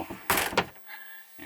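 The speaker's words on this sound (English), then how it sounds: "just going to close the door" The sliding door of a Malibu Charming GT 600DB six-metre campervan is pulled shut, a quick rolling slide ending in a firm close nearby, with faint rattling after.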